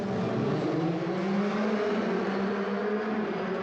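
Euroformula Open race cars launching off the grid at Mugello, a dense, continuous roar of many engines revving together at a steady high pitch with no pauses.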